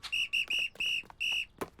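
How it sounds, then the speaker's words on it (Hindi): A shrill whistle blown in a quick series of short and longer blasts, clear and fairly close, in a children's cartoon scene. "हमें सीटी मिल गई।"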